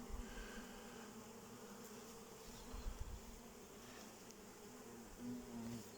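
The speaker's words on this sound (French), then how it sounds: "j'ai un gros frelon qui me traîne autour" A large hornet circles close around a beehive during a spring hive inspection, its buzz a faint steady drone over the hum of many bees, swelling briefly near the end.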